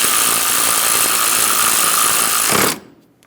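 Loud continuous whir of a power tool snugging down a bolt on a Honda Pilot engine mount bracket, running steadily for about two and a half seconds before cutting off abruptly.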